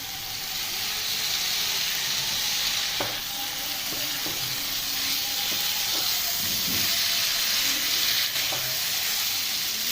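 Chicken gizzards frying with spices and onion over a gas flame hiss steadily up close, broken by several scrapes and knocks as the spoon stirs the pan.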